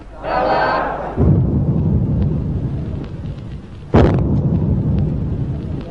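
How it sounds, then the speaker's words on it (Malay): Ceremonial cannon salute fired at a royal installation ceremony in Malaya, 1957: a loud booming blast, then a second sharp report about three seconds later, over steady crowd rumble. "bunyi bedilan meriam"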